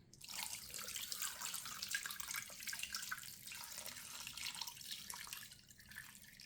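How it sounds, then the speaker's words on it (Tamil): Water pours steadily into a cooking pot of chicken and onions, a continuous splashing rush heard close up with no talking. "இப்போ நாங்கள் தண்ணி ஊற்றுவோம்."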